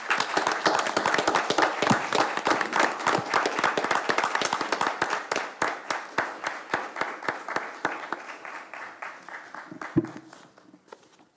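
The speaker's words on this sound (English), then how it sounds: "How about one more round of applause?" A round of applause at a school board meeting, a modest group clapping in distinct, closely spaced claps that thin out and fade toward the end, with a faint voice near the close.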